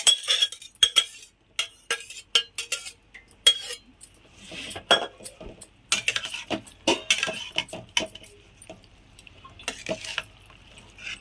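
Boiled kabuli chickpeas and greens are stirred into a raw mango tempering in a pan. A spoon clinks and scrapes in irregular, fairly close bursts with quiet gaps between them.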